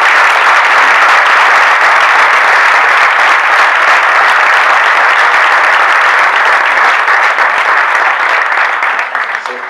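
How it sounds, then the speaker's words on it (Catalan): A dinner audience at a Christmas charity event bursts into loud, close applause that holds dense and steady for around ten seconds before starting to thin out at the end. "un aplaudiment per tots ells"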